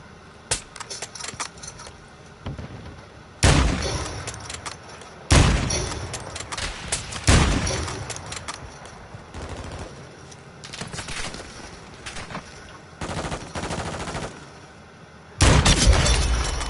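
Sniper rifle shots ring out in a video game, several sharp loud bursts spaced a few seconds apart over busy gameplay noise and chatter.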